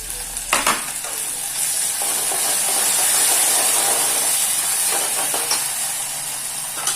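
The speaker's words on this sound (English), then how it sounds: "So little coriander leaves I'm going to fry into this." Coriander leaves fry in a hot pan with a steady, loud sizzle and hiss, broken by a few sharp stirring clatters near the start and again toward the end; no one speaks.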